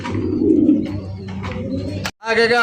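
Big Andalusian house pigeons coo steadily up close, a low throaty murmur, and a voice cuts in briefly near the end.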